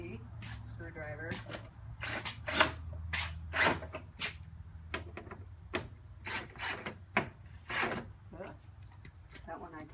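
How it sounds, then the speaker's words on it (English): Screwdriver turning and tightening headlight mounting screws on a MINI Cooper during a Spec-D headlight install, heard as a run of sharp, close ratcheting clicks and scrapes in uneven bursts under ongoing talk. "now I'm going to tighten them with the screwdriver"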